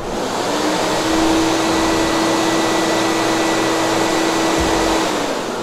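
A Wieland VacPro 16 industrial vacuum runs on one of its three blowers at its lowest speed, a loud, steady roaring whoosh with a constant hum close by.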